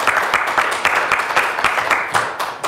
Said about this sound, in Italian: salutiamoci con un applauso